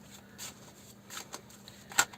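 Tarot cards are shuffled by hand in soft, uneven riffles and flicks, with a quiet rustle and a sharper snap near the end.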